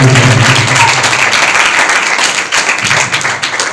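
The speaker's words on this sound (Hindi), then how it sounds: "आइए अपने खुदावंद के लिए ताली बजाएं" A church congregation claps together during worship, a loud, dense and continuous wash of hand-claps with little else heard.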